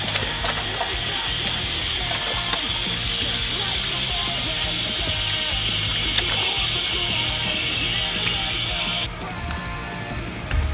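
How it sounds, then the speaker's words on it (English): Steady running water hisses from a tap for several seconds as hands are washed, a continuous wash of sound with faint splashing, cutting off abruptly near the end. "Make sure you wash your hands with warm water and soap regularly."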